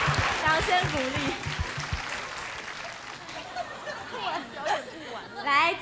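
A studio audience applauds in a rolling burst of clapping that fades and then swells again, with people talking over it and crowd chatter in the background.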